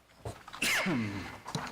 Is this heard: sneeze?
yes